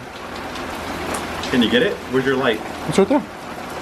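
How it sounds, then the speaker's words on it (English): Rain falls steadily outdoors as a soft broadband hiss throughout, with people talking over it in the middle. "Look at that rain."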